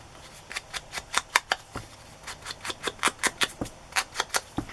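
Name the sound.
scissors trimming paper ephemera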